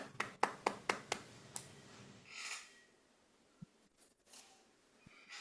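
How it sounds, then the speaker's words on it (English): A small Toastmasters club audience gives a brief, sparse round of applause, a handful of distinct close claps that fade out after about two seconds, followed by quiet room noise and faint movement. "Let's give big round of applause."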